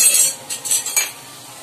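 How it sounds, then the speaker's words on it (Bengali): Potatoes frying in oil in a pan, cooked for a vetki fish curry, with a soft sizzle under a few quick clinks and scrapes of a utensil against the pan, close and without voices. "এই যে আলুগুলো আমার ভাজা হচ্ছে"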